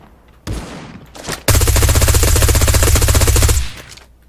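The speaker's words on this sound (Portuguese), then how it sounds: "Tá dando tiro aleatório." Automatic gunfire in the shooter video game Badlanders: a couple of brief shots, then a loud, sustained rapid-fire burst of about two seconds, close and alone with no talk.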